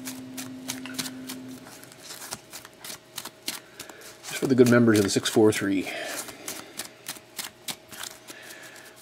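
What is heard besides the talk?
shuffling trading cards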